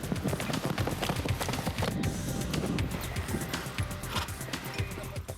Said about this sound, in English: Meet Dante and Cuba, both Lusitano horses from Portugal